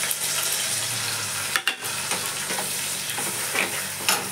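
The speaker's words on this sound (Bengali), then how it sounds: "একসঙ্গে মশলা কষিয়ে নেবো।" Mustard and green chilli paste with turmeric and chilli powder sizzles and fries in a pan while a spatula stirs it, a steady close hiss broken by scraping strokes, with no voices.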